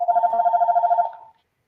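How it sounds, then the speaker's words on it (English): A home landline telephone gives a single electronic ring, a buzzy pulsing trill lasting just over a second that stops abruptly, leaving silence behind. "Got a phone interruption there."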